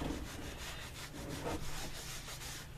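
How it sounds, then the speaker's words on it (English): Rag buffing freshly dyed leather pieces that are being pressed together: a faint, continuous rubbing and swishing with a soft, steady back-and-forth texture, heard alone without talk. "So the buffing rag serves a couple of purposes. It gets that excess dye off and it helps to push the two pieces together."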